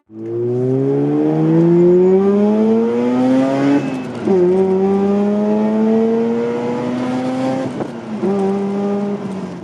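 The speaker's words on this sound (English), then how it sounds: "we're driving my 2006 Mazda Rx8" A 2006 Mazda RX-8 engine revs hard through the gears, pitch rising then dropping at each shift, loud and continuous as if heard from inside the car.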